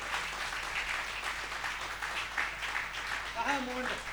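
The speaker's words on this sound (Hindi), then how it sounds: "तालियां बजा दो एक बार जोरदार जरा।" An audience at a stage event for a book launch claps steadily in continuous applause, and a voice cuts in near the end.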